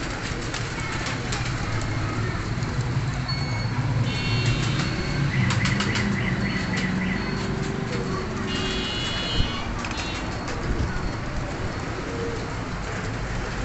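Several pigeons flap their wings in bursts at close range in Faisalabad, Pakistan, over a hissing, rain-like background, with occasional bird calls.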